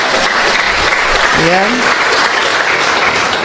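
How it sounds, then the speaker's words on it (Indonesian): A church congregation applauds the choir, a loud continuous wash of clapping that fills the whole stretch while a voice speaks briefly over it. "tepuk tangan dong saudara."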